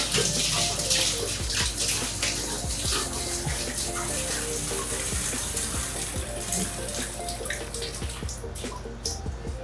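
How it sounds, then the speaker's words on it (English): Water pours and splashes steadily into a cold brew vat during cleaning, a continuous close rushing flow that lasts throughout and fades slightly toward the end. "we're going to dump some of that remaining water that we use as a weight"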